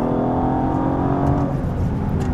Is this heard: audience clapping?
no